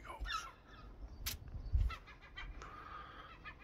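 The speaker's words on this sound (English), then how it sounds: "We love the seagulls here." Seagulls call at a seaside holiday park in Brean in November, a few faint, scattered honking cries at a distance over soft outdoor background noise.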